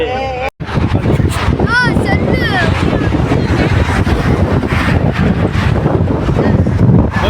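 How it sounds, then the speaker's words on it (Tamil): Strong wind buffets the microphone in a steady, loud rumble throughout, with a voice speaking over it during an outdoor trip to a temple. "காத்து பயங்கரமா அடிக்குது"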